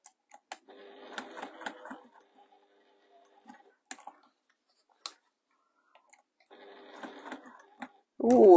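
A sewing machine stitches a handmade bag in two short runs of rapid, quiet mechanical clatter, separated by a pause with scattered clicks and taps, and a sudden loud burst at the very end.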